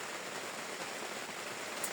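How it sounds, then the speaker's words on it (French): Rain falls steadily outdoors, a constant even hiss of drops with no voices over it. "En tout cas ici il pleut, c'est la merde."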